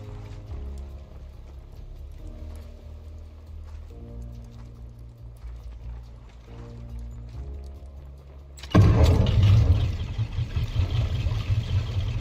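Boat engines running in the survival game Raft: a quiet, soft background at first, then a sudden loud, rough engine roar that stays up close and continues steadily to the end.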